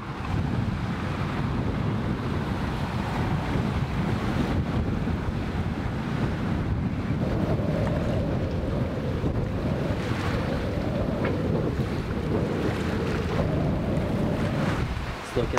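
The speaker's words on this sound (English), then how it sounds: "Yes, and it's quite windy." Strong wind roars across the microphone while waves wash against a sailing boat at sea on a passage toward land, a dense steady rush with a faint tonal whine entering midway.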